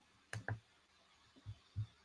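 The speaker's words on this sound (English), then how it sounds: "clicking on that" Computer mouse clicks at a desk, a quick double click followed by two softer separate clicks, close and quiet with no talk.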